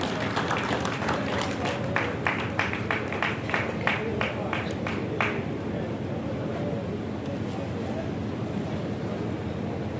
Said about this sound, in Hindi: जोरदार तालियों से हार्दिक अभिनंदन कीजिए।